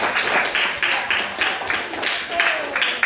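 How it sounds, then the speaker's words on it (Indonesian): A classroom of pupils claps together in short bursts of applause, several rhythmic rounds of hand claps heard close, with a voice talking over them. "Ya, tepuk tangan dulu untuk pelatihan."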